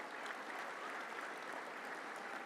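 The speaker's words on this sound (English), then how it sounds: "Let's give those volunteers a big round of applause" Sustained applause from a luncheon crowd honouring volunteers at a touchdown club event, steady and even throughout, with no voices standing out.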